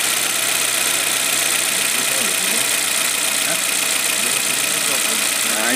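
A misfiring engine idles roughly and unevenly, a steady close drone with an irregular stumbling beat and no talk over it.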